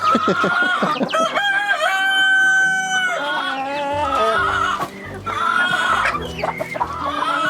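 Rescued hens and chicks cluck and peep close by while a rooster crows loudly in a long, drawn-out call, followed by more overlapping clucking and chatter.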